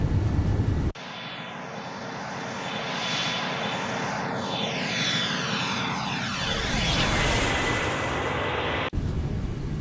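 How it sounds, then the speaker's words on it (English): Engines of an MD-11F cargo jet in a flight simulator during a flyby, a continuous loud roar that swells and shifts in pitch with a high whine rising late, steady throughout with no talk. "Gear can go up and we'll go for a flyby."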